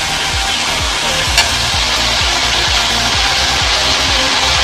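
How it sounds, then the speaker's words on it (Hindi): Aloo mooli sabzi sizzles loudly in a pan as turmeric is stirred in, a dense, constant frying hiss with regular spoon scrapes repeating roughly every half second. "इसको मिला लेते हैं अच्छे से।"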